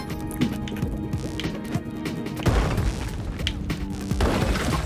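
A heavy boom from Spelunky 2 thuds in at about two and a half seconds, cutting through chiptune-style game music, with a second rumbling impact near the end.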